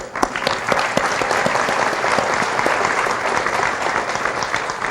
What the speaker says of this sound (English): Again, a round of applause from our city high school poet.